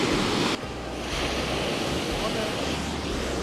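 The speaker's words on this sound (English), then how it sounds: "when I saw the waves are really huge" Loud, steady roar of large ocean waves surging and breaking on a beach in Albania, with heavy wind buffeting the microphone throughout.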